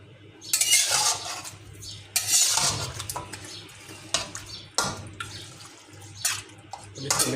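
A splash of water poured into a pot of chicken karahi, giving a bright hissing, sizzling wash in a couple of bursts with clinks of the pot and spoon in between, close-up.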